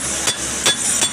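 Sledgehammer blows land on hot steel while a bolo knife is forged, three sharp metallic strikes about a third of a second apart over steady workshop noise, close and loud.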